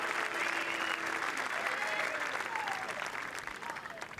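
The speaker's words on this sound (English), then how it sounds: "Just hear those cheers and applause." Golf gallery at The 149th Open applauding and cheering around the green, a steady dense wash of clapping with a few voices rising through it, fairly loud and continuous before easing slightly at the end.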